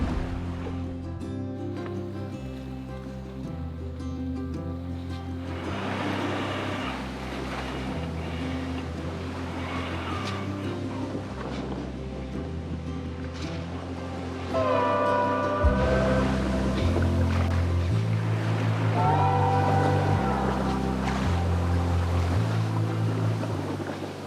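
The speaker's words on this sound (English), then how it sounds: "The wind and the waves have picked up a bit." Wind and waves buffet an all-electric sailboat crossing the open sea, a continuous rushing wash of water and gusts with occasional splashes and creaks, growing louder partway through, no voices.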